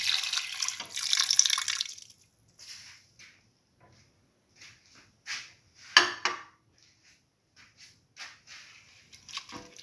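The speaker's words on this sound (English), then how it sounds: "Pour in the tamarind water." Tamarind water pours and splashes into a cooking pot for a couple of seconds, followed by scattered drips and light clatter nearby.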